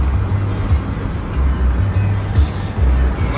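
A large truck engine rumbles close by, a deep steady drone with a few surges as it approaches, no one speaking.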